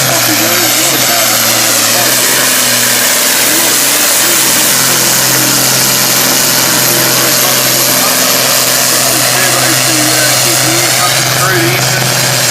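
An International 786 tractor roars through a tractor pull run at a New Zealand field event, a loud, sustained, strained engine drone that holds steady throughout, with an announcer talking over it.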